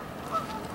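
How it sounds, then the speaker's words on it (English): Geese flying over a lake give a faint, brief honk or two at a distance, above a steady outdoor background. "We got some geese flying up the lake."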